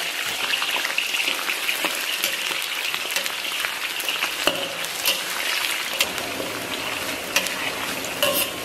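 Scallion, ginger and garlic drop into oil with rock sugar caramelized to a bubbling jujube-red, giving a steady, dense sizzle and crackle with faint stirring, loud and continuous throughout with no talking.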